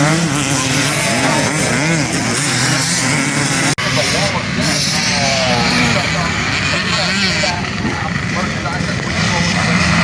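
Vintage motocross motorcycles at an AMA Vintage Motorcycle Days event, engines droning loudly and continuously throughout with revving swells, while people talk over the noise.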